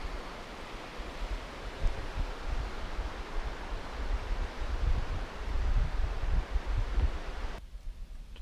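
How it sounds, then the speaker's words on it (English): River rapids in a northern Algonquin Park forest rush in a steady, broad roar of churning water, continuous and fairly loud, with gusty surges before cutting off abruptly near the end. "You can see all the rapids down here."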